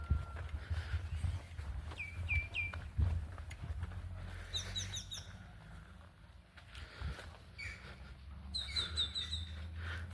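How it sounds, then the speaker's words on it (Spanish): Birds singing in the early morning in Carlos Baliño, a village near a sugar mill in Santo Domingo, Cuba: short repeated chirps and trills at moderate distance over a low rumble of background noise. "Ahí pueden escuchar el canto de algunas aves."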